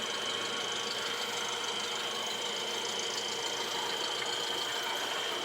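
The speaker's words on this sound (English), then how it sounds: "20 horsepower Briggs & Stratton motor." A 20 horsepower Briggs & Stratton engine on a DIY tow truck built from scrap runs at a steady idle, a constant droning hum with a faint high whine, unbroken and fairly close.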